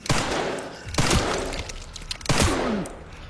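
Gunfire in the video game Resident Evil Requiem: three loud, sharp shots spaced about a second apart, each followed by a rumbling echo, up close and alone.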